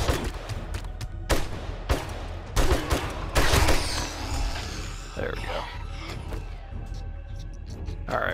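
Bursts of M60 machine gun fire ring out at night in the video game 7 Days to Die, with several sharp volleys and rapid shots of varying loudness and someone talking over parts of it.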